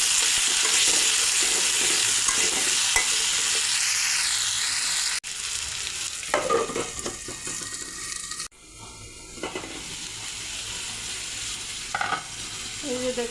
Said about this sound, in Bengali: আলুগুলো লাল লাল করে ভেজে নিলাম।